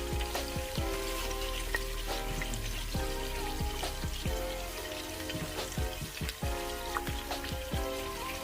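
Onions cooking down in a soup pot for a Zuppa Toscana-style soup, a steady low sizzle and bubbling with scattered clinks and scrapes of a utensil against the pot, close and continuous.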